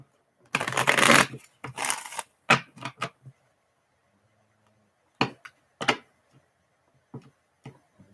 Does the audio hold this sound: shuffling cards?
yes